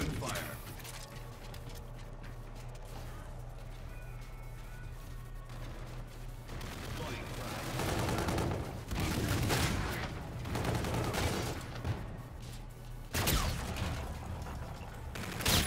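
Shooter video game gunfire, bursts of rapid shots and sharp cracks arriving in clusters over a low, steady background drone, loudest in the second half.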